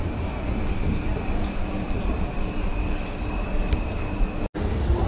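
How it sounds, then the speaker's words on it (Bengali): A Zurich city tram, route 14, idles at a signal, giving a steady rumble with faint high electrical whines and a brief mechanical clunk near the end, heard close and without speech. "ট্রাম দেখতেও পেয়েছি যে এসে গেছে, জাস্ট সিগন্যালের জন্য দাঁড়িয়ে আছে"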